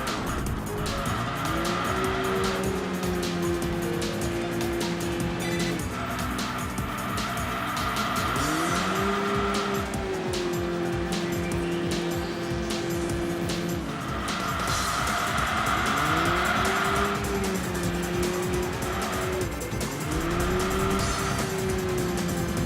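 A Mazda RX-8 race car in Enthusia Professional Racing screams through repeated gear changes, its engine pitch climbing and dropping in waves, while tires squeal and skid through corners continuously and loudly.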